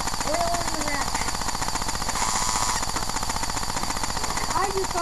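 Pneumatic ratchet tool running continuously up close, a loud rapid hammering buzz, with a voice briefly audible over it.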